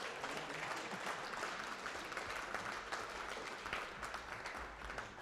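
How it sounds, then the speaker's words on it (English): Quiet, steady applause from an audience at a reconciliation forum closing session, honoring a singer from Lame Deer; the clapping is distant and even, with no clear voices. "Let's give him a round of applause."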